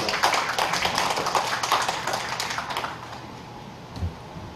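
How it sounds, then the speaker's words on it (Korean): Wedding guests in a hall give warm applause to welcome the bride's father, a dense patter of many hands that holds steady for a few seconds and then fades out, with no talking over it. "여러분 다시 한번 따뜻한 박수로 신부 아버님을 모시겠습니다"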